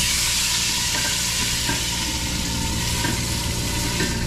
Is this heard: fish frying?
yes